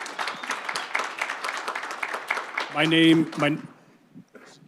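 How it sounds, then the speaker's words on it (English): Audience applause at a student senate town hall, a dense wash of many hands clapping steadily for several seconds before a brief burst of talk and a fade to quiet. "I'm going to ask the audience to give you all a round of applause"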